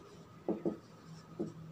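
Chalk or pen writing on a board during a chemistry lesson, three short faint scratchy strokes close by against a quiet room.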